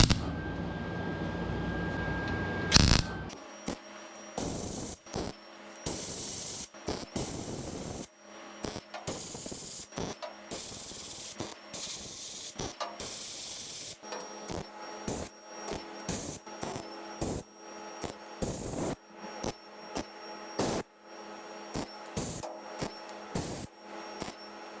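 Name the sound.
tack welding outer rocker on 1971 Volkswagen bus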